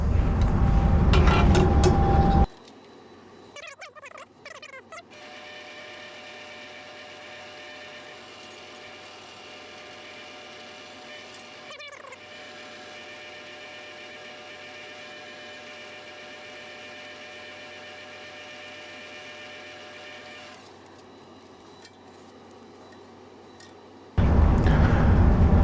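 A drill boring an offset hole through a crank clamped in a drilling jig: a steady machine hum runs throughout, with a brief louder burst at the start and end and a few small clicks.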